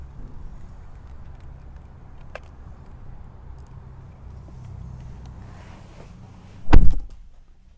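Pressing the black button on the door handle of a 2023 Kia Forte gives a short, sharp mechanical thunk near the end. Before it comes a quiet low hum with one faint earlier click.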